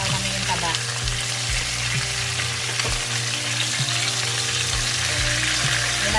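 Pork liempo frying in its own rendered fat, with a steady, loud, dense sizzle and crackle that runs without a break. Low clunks and scrapes of the pan come through now and then.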